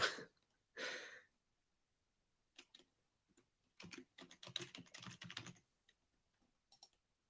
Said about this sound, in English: Just typing this up on Twitter